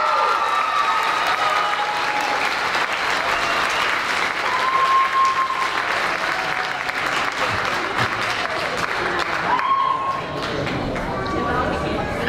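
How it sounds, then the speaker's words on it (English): A large crowd at a summer camp showcase gives a long, loud round of applause for camp volunteers, continuous dense clapping with cheers and whoops mixed in, sustained for the whole stretch. "So can we just give them all a huge round of applause?"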